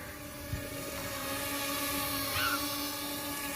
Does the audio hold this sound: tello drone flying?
yes